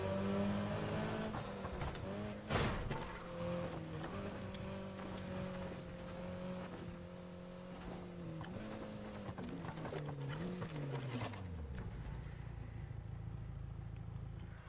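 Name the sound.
car racing in a speedway race, from a video game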